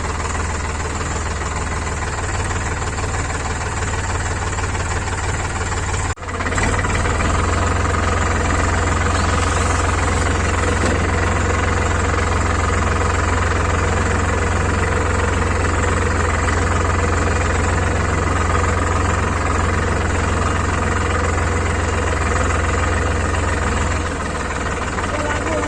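A Sonalika tractor engine idles with a loud, steady low rumble and a knocking throb that runs on and on, broken once by a brief dip before the drone resumes.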